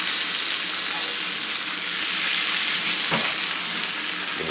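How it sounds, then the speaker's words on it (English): A steak sears in a newly seasoned cast iron skillet, giving a loud, steady, close-up sizzle that holds for several seconds with no talking. "Going to get a nice sear on the back of the steak here."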